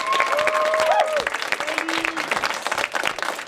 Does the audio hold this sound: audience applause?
yes